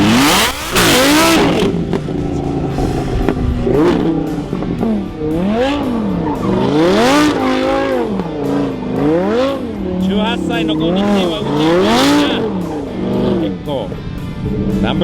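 A BMW M4 spins donuts at a drift day, its engine revving up and down in repeated surges while the tires squeal. The car is loud and close, and excited voices break in now and then.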